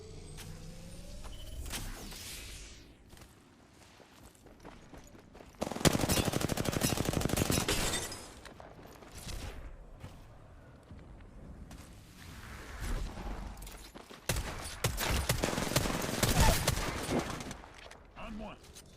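Bursts of rapid automatic gunfire from an Apex Legends match, with loud volleys separated by quieter stretches of game ambience and effects, some shots heavier and closer than others.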